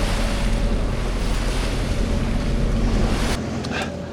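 Choppy sea slaps and churns around the small boat Lynsey B under steady, loud wind buffeting the microphone, the roar continuous before easing slightly near the end.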